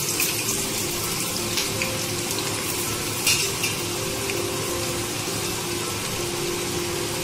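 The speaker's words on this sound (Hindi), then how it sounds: "ये तेल गरम हो रहा है, इसमें मैं ये परवल जो है इसको फ्राई कर लूँगी अच्छे से।" Small pieces of pointed gourd (parwal) frying in hot oil, a continuous loud sizzle with faint clinks of stirring and no talking.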